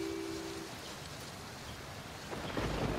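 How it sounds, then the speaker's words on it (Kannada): Heavy rain falls outside during a thunderstorm as a faint, even hiss, with a low thunder rumble swelling near the end. "ಆಚೆ ಇಷ್ಟೊಂದು ಜೋರಾಗಿ ಮಳೆ ಬರ್ತಾ ಇದೆ"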